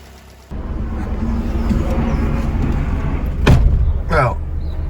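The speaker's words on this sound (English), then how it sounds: "we seem to have a running car and it seems to be quite happy at the moment" A small Fiat 500 car engine idles with a steady low rumble after kicking in, broken by a sharp knock and a brief rattle near the end.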